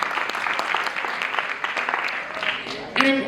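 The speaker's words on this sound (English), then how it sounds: "Let's do a clap for them." Audience applause at a live conversation event, steady clapping from a crowd throughout, followed at the end by a brief burst of louder, closer sound.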